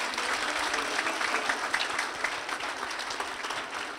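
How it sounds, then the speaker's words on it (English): An audience at a Hindu school graduation ceremony breaks into warm, steady applause, a dense clapping crowd heard at close range for the whole stretch. "Let's give him a round of applause."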